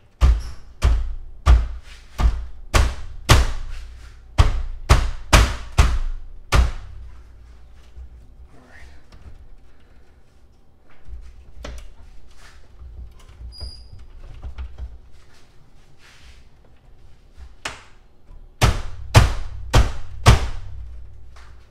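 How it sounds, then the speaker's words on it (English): Repeated thuds and knocks as the front grille of a Mercedes-Benz GLK is banged loose toward the engine, a rapid burst of sharp hits, a quiet pause with faint rustling, then another close, loud cluster of blows. "push that tab up and you literally just kind of bang the grill towards the engine"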